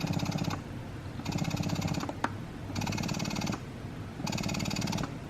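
Electric breast pump running with suction in cycles, four bursts of close, buzzing mechanical pulsing separated by short quiet gaps, with a single sharp click between the second and third bursts.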